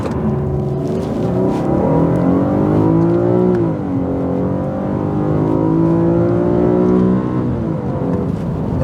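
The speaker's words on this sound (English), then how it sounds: "we'll throw in a 0 to 100 comparison for good measure." A Nissan Skyline 250GT accelerates hard from 0 to 100, its engine loud and close, climbing steadily through the revs, with one brief dip at a gear change before pulling up again.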